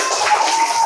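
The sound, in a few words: class applauding a classmate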